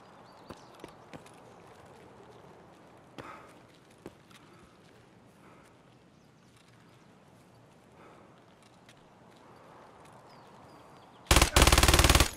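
Scattered single shots and short thuds in Escape From Tarkov lead up to a loud, sustained burst of automatic fire at the very end, with no talk.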